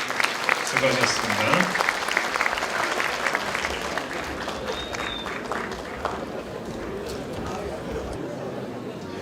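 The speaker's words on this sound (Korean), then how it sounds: "다시 한번 여러분 큰 박수 부탁드립니다." An inauguration ceremony audience breaks into sustained, dense applause across a large hall, steady and loud throughout, with a presenter's voice briefly heard over the clapping.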